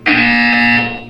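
A loud, steady electronic buzzer tone from the video game Portal 2 sounds alone for about a second, harmonically rich and unbroken before cutting off.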